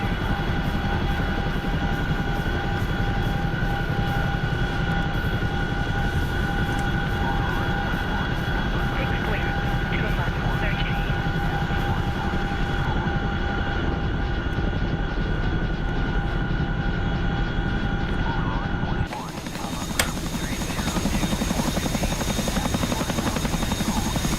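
Aircraft coming in to land in a video game, a steady loud droning rotor and engine roar that runs unbroken, dips briefly near the end, then resumes.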